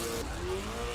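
A Ken Block Gymkhana car screams past with its engine at full roar and a short tire squeal, loud and brief.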